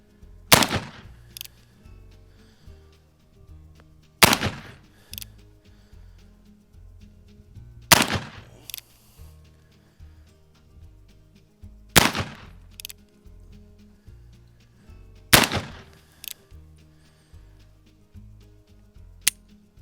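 An original Rogers & Spencer revolver fires five loud, sharp shots outdoors, spaced roughly every four seconds, with fainter clicks and handling noises between them.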